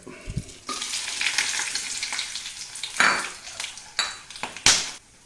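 Mustard seeds and fennel seeds splutter in hot oil for a jackfruit seed curry, a close crackling sizzle punctuated by loud metal stirring clanks against the pan, no voices.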